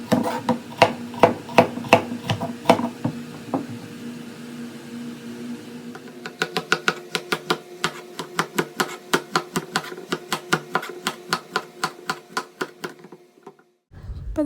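A knife chops bitter gourd into small pieces on a board, making rapid, evenly spaced sharp taps up close, slow at first and then faster, with no voices.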